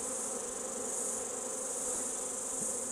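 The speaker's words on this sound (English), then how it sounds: "if I shake these bees down, you'll be able to get a good look at the brood" Honey bees being shaken off a brood frame during a hive inspection make a dense, steady, close-up buzz with an even hum throughout.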